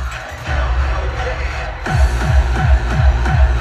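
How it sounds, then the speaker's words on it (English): A crowd noise sample fades in on a Midi Fighter Twister DJ controller, with broad crowd murmur rising under a thumping electronic beat whose kick drum enters partway through and keeps steady time. "and then fade in the crowd noises"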